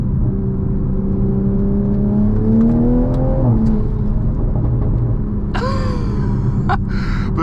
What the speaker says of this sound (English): The exhaust is so lively,